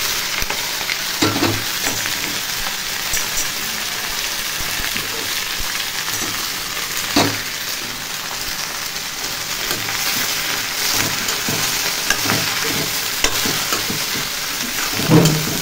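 Bottle gourd and green chilies sizzle steadily in a hot pan where shrimp were just fried, with scattered scrapes and taps of a spatula stirring them throughout; no voices.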